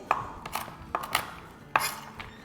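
A crisp dry-roasted ingredient being chopped into pieces on a board for banana bread cake: five or six sharp, close knife strikes at an uneven pace, alone without talk.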